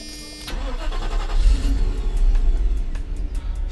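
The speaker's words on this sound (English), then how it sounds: "now we're going to start the engine and we'll compare two idles" A Mercedes SL500 R129 engine cranks and fires after a short quiet moment, then settles into a loud, rough, low rumbling idle that runs on to the end, heard close with no talk.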